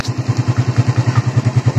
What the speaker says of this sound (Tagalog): Itong motor.